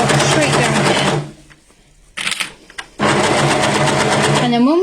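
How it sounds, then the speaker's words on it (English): An overlocker runs loud and close while stitching straight down a fabric edge, its steady rapid whir stopping partway for a brief pause with a few clicks before starting again; a voice talks over part of it. "We're just going to overlock straight down here."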